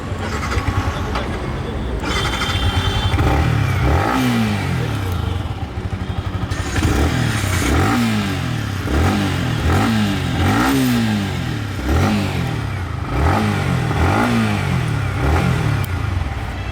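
A 2019 Yamaha MT-15 motorcycle engine starts and idles with a loud, close, throaty rumble, then is blipped repeatedly in quick rising revs that fall back to idle, in a steady rhythmic series.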